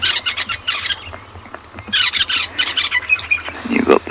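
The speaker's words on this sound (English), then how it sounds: "You got the sounds of the fish eagle there." An African fish eagle gives loud, ringing squawking calls in repeated bursts on a sunrise safari, close and prominent, with people talking in between.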